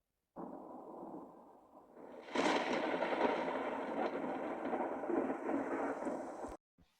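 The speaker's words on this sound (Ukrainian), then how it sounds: "Так, це грім." Thunder: a low rumbling roll that swells into a louder, broad crackling rumble and holds for several seconds before cutting off abruptly.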